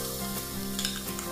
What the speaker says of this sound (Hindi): 7:30 का समय हुआ है और मैं आप सब्जी छौंकने लगी हूँ।